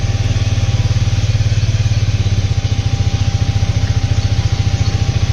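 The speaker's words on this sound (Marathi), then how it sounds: "अँड आपण स्टार्टिंगला करणार कोल्ड स्टार्ट." A motorcycle idles after a cold start, its engine giving a steady, loud, rapid putter that holds an even rhythm throughout, close by with no talk.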